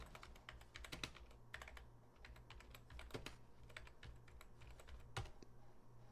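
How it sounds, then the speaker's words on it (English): Rapid clicking of keys on a computer keyboard, irregular bursts of typing close by with a faint hum underneath. "Oh, sorry, I'm typing in the wrong place."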